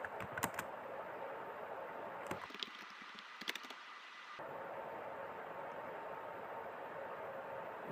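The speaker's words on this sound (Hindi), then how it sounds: "यहाँ पर हम टाइप करेंगे" Keys on a computer keyboard tapped to enter a heading in an Excel salary sheet, a few sharp clicks over steady low background hiss, fairly faint.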